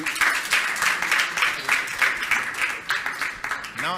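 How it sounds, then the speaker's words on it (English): Audience applause at an on-the-road university event, uneven clapping in pulsing bursts rather than a smooth wash, moderately close, with no clear talk over it. "Please clap for a good wife who..."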